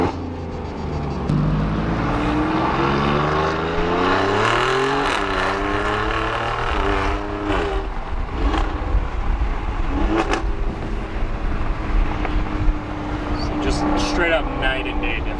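An Alfa Romeo Giulia Quadrifoglio in race mode and manual, its exhaust booming loudly as the engine revs through rising and falling sweeps under steady road noise, with someone talking over it at times.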